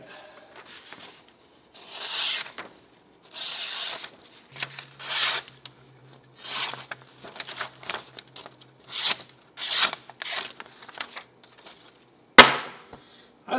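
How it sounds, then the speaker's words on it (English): A knife blade is stropped lightly on cardboard in a series of soft, evenly spaced rubbing strokes, quiet and close, with a sharp tap near the end. "lightly strop a knife with cardboard because there's a little bit of abrasive"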